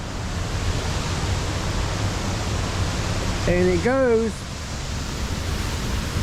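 Creek water rushes steadily beside old mill ruins, a broad, constant hiss of flowing water with a voice speaking briefly over it midway.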